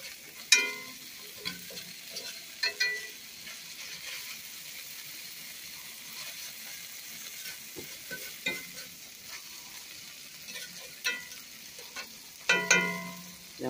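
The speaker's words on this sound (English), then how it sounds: "Now we'll just let that cook real good till we see all the red out of the meat" Steak and shrimp for burritos cook in a pan with a steady low sizzle, broken by occasional sharp clinks and scrapes of a utensil stirring the meat.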